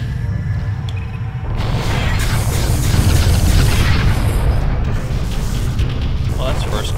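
A spaceship explodes in the FS Port space combat game with a heavy, sustained rumbling boom that swells after a quieter start and holds loud to the end.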